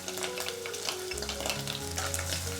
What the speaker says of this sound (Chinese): 五花肉煸出油了，我们把蒜末加进来